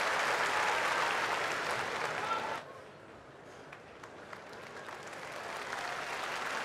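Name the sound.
sumo crowd applauding a match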